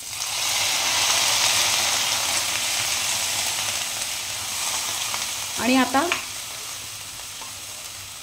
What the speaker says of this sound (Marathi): कांदा थोडा शिजेपर्यंत परतून घ्यायचा आहे